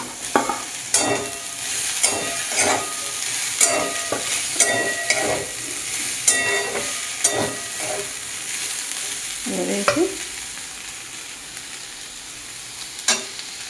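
Fried fish being stirred into a pointed gourd curry in a pan, with a steady frying sizzle under a run of regular scraping and tapping strokes from a spatula, about one each second, then a quieter simmer.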